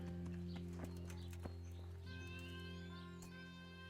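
A horse's hooves clip-clopping in the video game Kingdom Come: Deliverance, with rhythmic steps over a steady droning game background and a brief whinny-like tone, fairly quiet.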